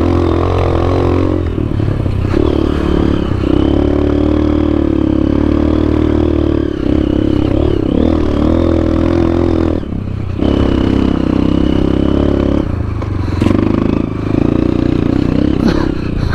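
Honda CRF dirt bike ridden in third gear on a forest trail in the Rampart Range riding area, its engine droning loud and close throughout with rising and falling revs and brief throttle dips, plus clattering from the rough ground.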